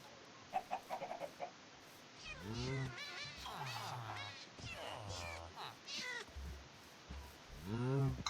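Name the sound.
cat meowing in Minecraft video game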